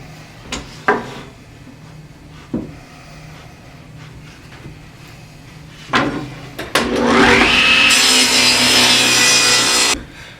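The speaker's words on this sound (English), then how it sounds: "ripping these boards down" Wooden boards get handled with a few sharp knocks, then a power saw spins up and rips through the wood in a loud, steady whine lasting several seconds before stopping.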